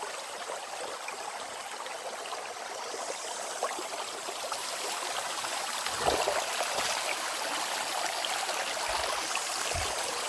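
A clear mountain waterfall stream near Ban Nam Ru, Pai district, Mae Hong Son, Thailand, rushes steadily and close by, a continuous bright wash of flowing water with no talk.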